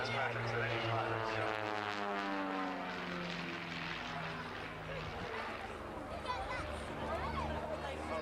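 Propeller-driven aerobatic display aircraft fly at the Abingdon Air & Country Fayre air show, engines droning and shifting in pitch as they pass overhead, with a commentator talking over the noise.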